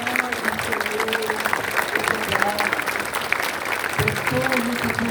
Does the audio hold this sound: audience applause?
yes